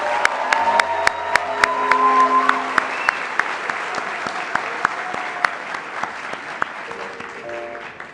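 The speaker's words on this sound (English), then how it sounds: "Let's give another round of applause for our civil and environmental engineers." Sustained audience applause at an engineering graduation and induction ceremony, steady clapping with scattered sharp individual claps standing out and a faint musical tone underneath.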